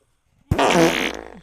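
A single loud, close fart, sharp onset then a sustained buzzy rasp that tapers off over about a second, heard alone with no talk.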